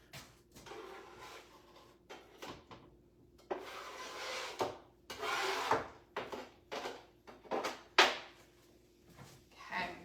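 A scraper is scooping chopped onions off a cutting board, making repeated close rubbing and scraping strokes in uneven bursts, with short knocks between them.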